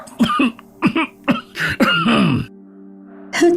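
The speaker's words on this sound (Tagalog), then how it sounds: "may dugo na po yung ubo niyo" Several harsh, wet coughs in quick bursts, close and loud, with a low steady hum underneath, then a pause and one more cough; the cough brings up blood.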